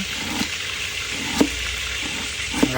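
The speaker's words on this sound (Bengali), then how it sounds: "মুরগিটা ফ্রাই করবে এখন ভাজি হচ্ছে" Chicken frying in a pan during home cooking, a steady sizzle hiss throughout with a few soft clinks of a utensil against the pan.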